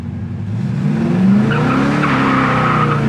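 A 1970 Chevy Camaro pulls away hard with its tires squealing, a loud, steady screech rising over the engine's low roar for about two seconds.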